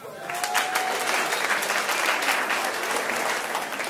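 Audience at a comedy performance in Nairobi breaking into loud sustained applause, a thick wash of many clapping hands lasting the whole stretch with crowd murmur underneath.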